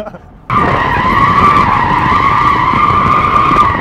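A BMW X3M drifting, its tires bursting into a sustained, loud, close squeal after a brief quiet start, holding steady over engine noise.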